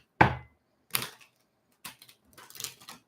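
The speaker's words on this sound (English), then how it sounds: "One more shuffle because I didn't like it." Tarot cards shuffled by hand, producing several separate crisp riffling bursts close by, each a short burst of papery clatter with brief pauses between.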